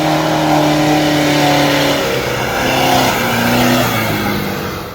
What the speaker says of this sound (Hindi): तो गाड़ी निकल जा रही है।